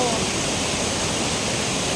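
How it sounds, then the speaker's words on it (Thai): The Chet Khot Nuea waterfall in the Chet Khot-Pong Kon Sao park, Saraburi, Thailand, gives a constant dense roar of falling water, loud and close, filling the whole clip without a break. "น้ำตกเจ็ดโคตรเหนือนะคะ"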